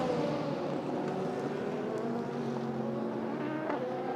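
A race car at the Asian Le Mans Series 4 Hours of Dubai drones steadily as it carries speed through high-speed corners, a continuous engine roar with shifting pitch and no speech.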